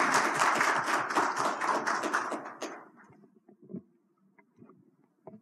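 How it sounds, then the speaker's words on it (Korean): Audience applause welcoming a speaker at a forum, a dense burst of clapping from a crowd that fades out over a couple of seconds, leaving a few scattered claps and room noise. "박수를 맞아주시면 고맙겠습니다."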